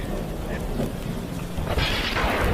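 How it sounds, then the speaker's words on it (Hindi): Thunder rumbles and cracks over steady heavy rainfall, a loud deep roll building toward the end. "बिजली जोर जोर से कड़कने लगती है"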